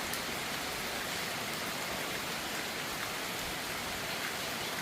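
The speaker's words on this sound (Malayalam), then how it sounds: "നമുക്കിവിടെ നല്ല അത്യാവശ്യം തിരക്കില്ലാത്ത രീതിയിൽ മഴ പെയ്യുന്നുണ്ട്" Steady, dense rain pouring down, a continuous hiss of drops on surfaces with no pauses or voices.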